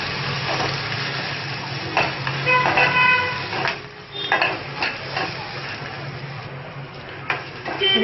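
Curry leaves and sliced onions fry in a pan for Andhra-style pappu charu, a steady sizzle under repeated clinks and scrapes of a spoon stirring against the metal, close up with no talking.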